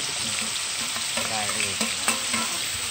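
Sliced onion sizzling steadily in a hot pan while being stirred, with scraping utensil strokes and small crackles over a continuous frying hiss, close and moderately loud, no talking.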